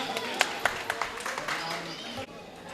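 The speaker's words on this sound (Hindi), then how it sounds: "एक बार जोरदार तालियां।" A crowd at a religious cultural gathering in Bholanath Nagar, Delhi, claps briskly, the sharp individual claps standing out over a busy layer of applause and voices that thins after about two seconds.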